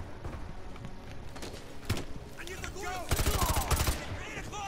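AK rifle fire in a shooter video game mission comes in sharp, loud bursts of rapid shots, with a heavier cluster of reports near the end, over busy game ambience.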